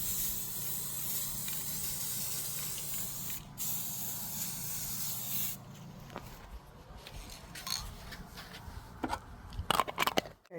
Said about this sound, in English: we're going to go over it with our gold metallic spray paint